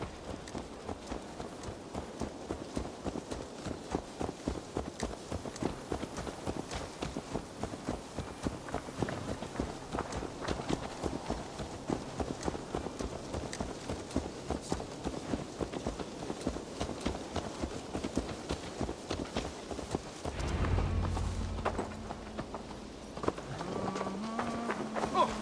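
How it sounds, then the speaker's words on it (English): Horse hooves clip-clop at a quick, steady rhythm in Assassin's Creed Valhalla, a long run of even beats that stops near the end, followed by a brief low thud and quieter ambience. "Let's return the horse."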